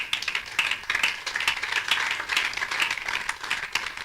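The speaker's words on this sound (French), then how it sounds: "Est-ce que quelqu'un peut acclamer le Seigneur?" A church congregation claps for the Lord, a dense run of close hand claps pulsing unevenly with scattered individual slaps and faint cheering underneath.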